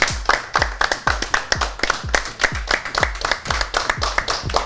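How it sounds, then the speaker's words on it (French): Audience applause for a contestant on a French makeup competition TV show, a brisk run of individual claps in a fairly regular rhythm, close and clear, with no talking over it. "On l'applaudit pour elle, s'il vous plaît."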